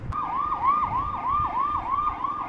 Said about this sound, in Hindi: एम्बुलेंस आ रही है भाई, और एम्बुलेंस का रास्ता देना यानी कि बहुत ज़रूरी है।